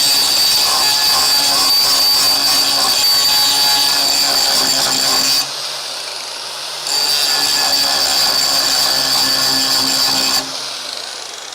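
An angle grinder grinds metal on a Crew Cab Charger car body, a loud steady high-pitched whine in two long bursts with a short drop to a quieter spin-down between them.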